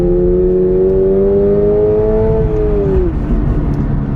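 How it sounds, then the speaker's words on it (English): A Subaru BRZ engine revs loudly and steadily while taking a right turn, a sustained rising whine that holds, then drops in pitch as the throttle eases, with road and wind noise underneath. "the engine does sound fine"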